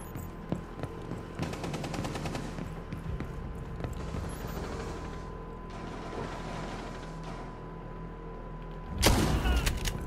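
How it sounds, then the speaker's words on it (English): Shotgun fire in a first-person shooter game, with bursts of rapid mechanical clattering and gunfire through the clip and one louder, heavy blast near the end, all over a steady game hum. "I just shotgunned somebody with Havana."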